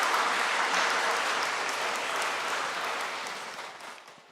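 A church congregation at a Catholic Mass for the feast of St. John the Baptist breaks into full, steady applause that gradually fades toward the end.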